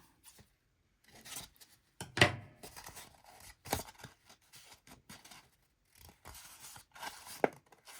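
Scissors cut through recycled paper for junk journal pages in a string of close, crisp snips and rasping slices separated by short quiet pauses, with no voices.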